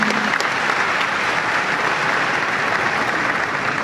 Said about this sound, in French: Vous acclamez.